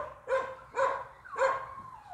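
A dog barks three times in quick succession, loud and close, each bark sharp with a short tonal tail, alone without any talk.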